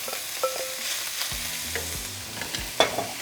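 Finely chopped flap steak frying in a pan for carne asada, a soft steady sizzle broken by a few near scrapes and knocks of stirring, with no voices.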